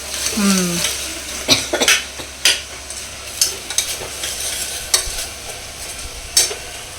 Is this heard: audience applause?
no